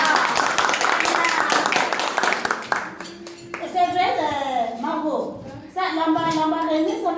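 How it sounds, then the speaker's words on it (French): Audience applause at a French-language stage event, a dense burst of clapping for about three seconds that fades out as a speaker's voice takes over. "Applaudissons pour Anteco."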